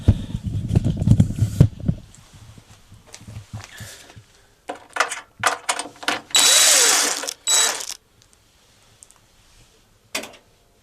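Screws being backed out of the top panel of a Miele washing machine with a screwdriver, giving bursts of clicking, ratcheting turns and scraping metal, near and close-up, with a quiet pause toward the end and a final click.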